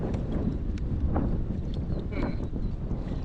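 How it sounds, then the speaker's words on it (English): Strong wind gusts across a lake, buffeting the microphone with a constant low rumble and broadband roar, while faint voices and small knocks come through underneath. "You probably can't even hear me right now because it's so windy."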